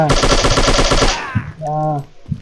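Rapid AK-47 machine gun bursts in a shooting video game, a loud rattling stream of close shots lasting about a second, followed by a brief voice.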